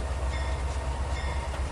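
Diesel locomotive in the Trainz 2019 railway simulator, throttled to about notch 4, a steady loud low engine drone with rolling rail noise, continuous and close, with no speech.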